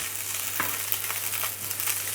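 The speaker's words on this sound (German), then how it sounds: "den im Mehl gewälzten Lachs." Flour-coated salmon fries in a little oil in a hot pan, giving a soft, steady sizzle with faint crackles and one brief clatter, alone without talk.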